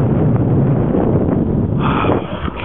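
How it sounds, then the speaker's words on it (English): Strong wind roars and buffets the microphone in a steady, loud rush on a long, open straight road between Norseman and Caiguna, easing a little near the end. "The wind's blowing in a favourable direction."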